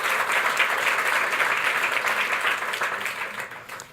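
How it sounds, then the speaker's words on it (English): Sustained audience applause from a crowd welcoming trustees at an Aspen Institute urban innovation event, dense steady clapping filling the room before tapering off near the end. "So please give a round of applause."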